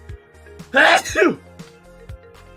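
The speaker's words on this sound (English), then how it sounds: "I'm going to sneeze." A single loud sneeze close by, one sharp burst breaking an otherwise quiet room.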